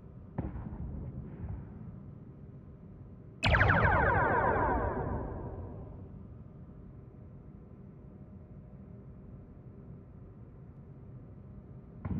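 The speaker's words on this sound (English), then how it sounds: "Target the nearby ship and fire torpedoes at it" A single torpedo launch in a Star Trek space-combat game played in Oculus VR bursts out sharply, then fades as a long descending whoosh over a steady low engine hum, with no voices.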